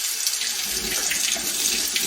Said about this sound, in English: Let me rinse those off.